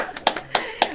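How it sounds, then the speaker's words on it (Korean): A few people at an author's talk on personal finance clap briefly, giving three or four sparse, separate hand claps close by. "우리 이 지점에서 이렇게 박수가 나가요."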